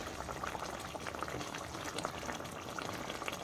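Chital fish curry simmering and bubbling in a pan as green and red chillies go in, heard as a steady close sizzle and bubble with scattered pops and crackles.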